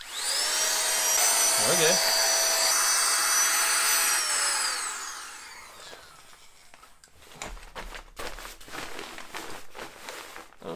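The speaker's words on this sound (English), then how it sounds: "Let's see how fast it deflates these pads." A backpacking air pump gadget runs loud and steady with a whining motor tone for about five seconds while deflating sleeping pads, then cuts off, leaving handling clatter, rustling and a brief spoken word.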